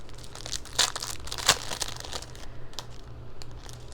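A sheet of regular paper is handled and crinkles close by, in soft, irregular rustles with a couple of sharper crackles, and no one speaks.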